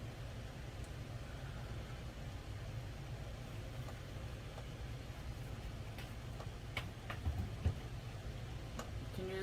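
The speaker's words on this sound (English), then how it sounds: "I have the air conditioner on." An air conditioner runs with a steady low droning hum throughout, with scattered faint ticks and small clinks from nearby handling over the top.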